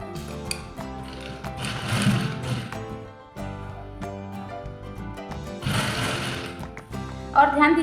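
A sewing machine stitches a ladies' shirt along the seam margin, its needle running in loud, steady mechanical bursts that stop for a beat around the middle and then resume, with some talk faintly mixed in.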